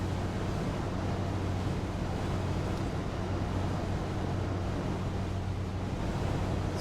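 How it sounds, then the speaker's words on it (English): Wind roars past a Comanche light aircraft in Microsoft Flight Simulator 2020 on a flight from Bodmin to Guernsey, a steady broadband rushing noise over a low engine drone, constant and unbroken with no talk. "It's very windy, as you can tell."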